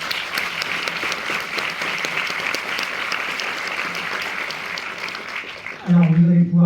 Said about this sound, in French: vous allez pouvoir redoubler d'applaudissements pour Madame Mi Bien